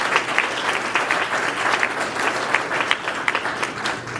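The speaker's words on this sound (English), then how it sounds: "Let's give yourselves a round of applause, please." Audience applause at a school awards breakfast, steady dense clapping from a roomful of people sustained throughout at a fairly loud, even level, with no talk over it.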